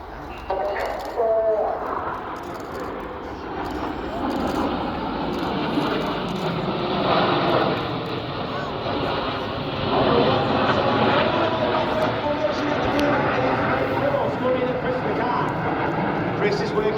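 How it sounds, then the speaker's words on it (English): RAF Typhoon jets of the display team perform a roll at the Royal International Air Tattoo, their loud sustained roar swelling and fading across the sky while a commentator talks over it. "In from the right, in honour of their 20th anniversary, this is the Typhoon Roll."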